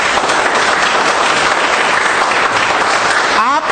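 An audience at a network marketing seminar claps in a dense, steady burst of applause that fills the room at full volume, trailing off near the end.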